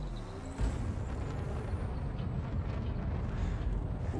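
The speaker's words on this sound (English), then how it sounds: "Frameshift drive charging." Spaceship frameshift drive charging in a space-flight video game, a loud, steady low rumbling roar with a faint rising whine, building at the start and then holding continuously.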